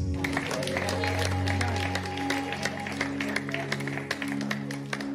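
A church congregation claps together through a sermon service, dense and continuous applause with a sustained musical tone underneath and a voice faintly present.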